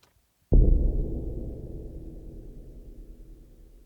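A single deep, booming floor tom hit, pitched down, lands after a brief silence, its low tone ringing out and fading slowly through a long reverb tail.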